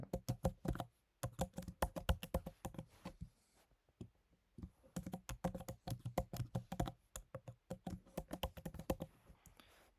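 Quick, crisp keystrokes on a computer keyboard as a password is entered, coming in close bursts of tapping separated by short pauses.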